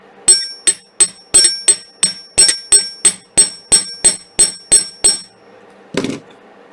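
A small hammer strikes a wire-wrapped earring holding a gemstone cabochon in about fifteen quick, evenly spaced metallic taps, each ringing briefly, followed by a short duller knock near the end.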